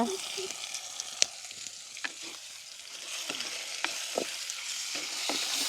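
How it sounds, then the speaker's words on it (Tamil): Country chicken pieces sizzle and fry in a pan in a village kitchen, with a steady loud crackle and occasional sharp scrapes of a spoon stirring and turning the meat. "அப்படியே நல்லா இருக்கா பிரட்டி விட்டுட்டு நாங்கள் வெட்டி வச்சிருக்கிற தக்காளி பழத்தையும் போட்டுக்கொள்வோம்"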